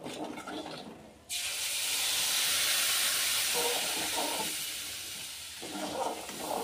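Red masala for drumstick curry hitting a pan on low heat, a sudden loud, broad hiss that bursts in and holds steady, then eases slightly, with a few faint clinks under it.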